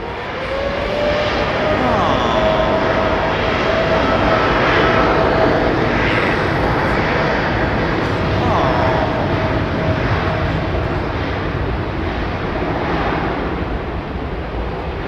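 Qantas QF2 airliner at London Heathrow, a steady jet engine roar with a faint whine, sustained and fairly loud throughout, mixed with wind on the microphone.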